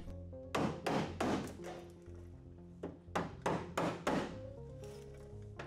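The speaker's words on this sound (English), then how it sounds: "Use a hammer and a paint scraper to break the inner fender well clips on the driver's side of the donor." Hammer driving a paint scraper to break plastic inner fender well clips on the driver's side of a donor car, sharp close metallic blows in quick clusters of two to four, with short pauses between.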